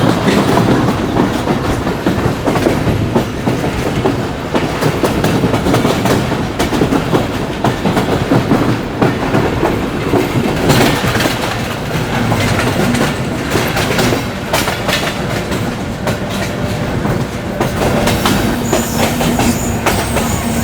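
Karachi Express passenger train with economy and AC cars running on rails: a loud, steady roar with rhythmic clickety-clack of wheels over joints and occasional faint squeal, continuous and close throughout.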